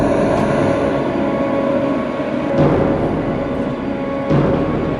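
Motocross bike engines roar during an MX2 race at the Czech Republic MXGP, a continuous loud droning blare with swells as bikes pass, no speech.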